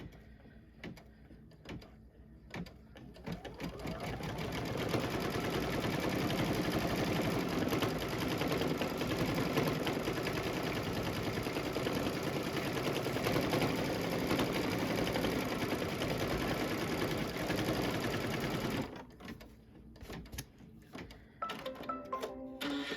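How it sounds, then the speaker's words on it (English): A computerized embroidery sewing machine stitches a placement line for a Christmas tree design on a December panel, running steadily and loudly for most of the clip with quieter start and stop moments before and after. "this is now going to stitch the placement line for the Christmas tree"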